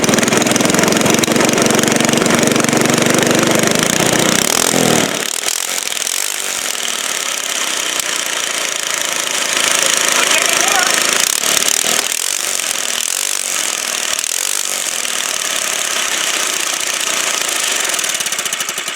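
A Harley-Davidson project engine fitted with a Mikuni 22 mm carburetor and running 91-octane pump fuel cranks, then fires and settles into a loud, rough, rapid idle that revs up and down for several seconds, close by.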